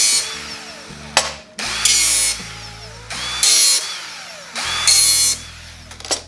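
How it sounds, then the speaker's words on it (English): A power sander grinds the edges off bandsaw-cut steel pieces in four loud bursts, each spinning up, holding for about a second and stopping, with quiet gaps between them. "Take a sander, just take the edges off."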